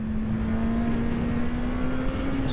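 A Honda CB650R four-cylinder motorcycle engine roars steadily at high revs on the Autobahn, a sustained loud drone whose pitch climbs slightly across the stretch, with no talking.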